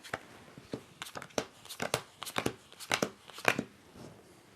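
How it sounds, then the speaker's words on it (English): Location cards from the Pack of Crooks board game are handled and shuffled at a table, giving a series of sharp, close card snaps and riffles at an uneven rhythm. "shuffle the location cards"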